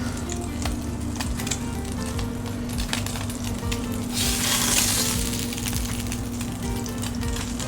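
Chopped onion sizzles on a hot griddle while smash burger patties cook. Steady, close frying hiss that swells briefly midway, with no talking.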